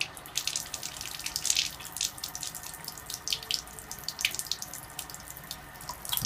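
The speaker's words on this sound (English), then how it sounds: "So let's turn on the water." Water streams steadily from the tap of an alkaline water ionizer being tested, a continuous hissing splash with small fluctuations, moderately close and unaccompanied by talk.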